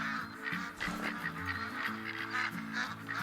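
A flock of wild ducks and geese honks and quacks repeatedly at moderate distance in a duck-hunting level of the game theHunter: Call of the Wild, set in Layton.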